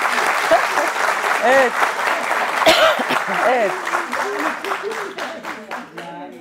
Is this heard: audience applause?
yes